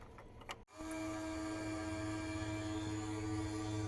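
A smoke leak detector machine runs steadily while it tests a Chevy Volt EVAP hose. A brief click and dropout at the start give way to a constant electric hum and whine that stays close and even.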